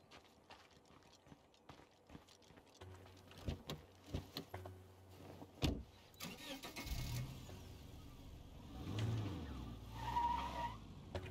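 A car in the zombie survival game State of Decay 2 starts its engine, then revs and skids, with tire screeches and rising engine roar over a series of bumps and knocks.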